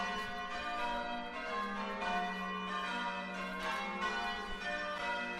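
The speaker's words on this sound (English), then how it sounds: "the bells at Croft Church, just outside Wainfleet, which are ringing for VE Day." Church bells of Croft Church near Wainfleet, England, peal for VE Day in a steady, overlapping sequence, rich ringing tones blending together at a moderate distance with no voices.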